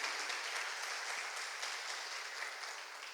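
Church congregation applauding together, a steady dense wash of clapping that holds evenly throughout without pauses or voices.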